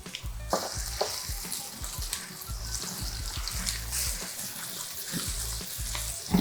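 Celery, Scotch bonnet pepper and pumpkin sauté in a pot for one-pot Caribbean okra rice, giving a steady close sizzle with frequent stirring scrapes and taps throughout, no talking.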